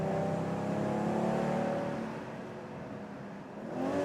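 A BMW M440i convertible's engine pulls hard through tight turns, a steady, loud droning rev that dips slightly midway and then swells again, heard from inside the car with no talk over it.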